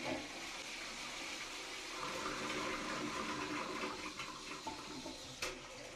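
A toilet flushes with a continuous rush of water that runs steadily for about six seconds at moderate loudness, with a faint gurgle near the end.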